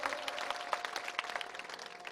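Audience applause at an outdoor devotional Dak Damru program in Mathavada, with a steady patter of many hands clapping and a faint sustained tone running beneath.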